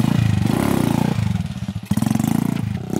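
A motorcycle engine revs hard and steadily during a stunt, loud and close, with a strong pulsing drone that dips briefly in the middle before climbing back up.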